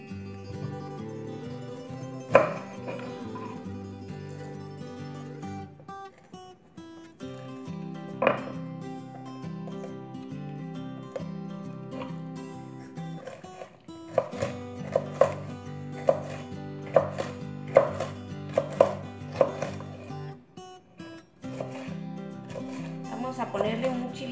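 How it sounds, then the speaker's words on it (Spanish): Knife chopping vegetables on a board for liver ranchero, a series of close, sharp cuts coming in bursts, with a quicker run of chops toward the end. "Voy a picar la verdurita."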